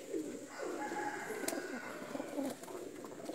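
Pakistani pigeons, Kamagar cross breed, cooing in soft repeated low calls, close by, over a faint steady background hum with no talking.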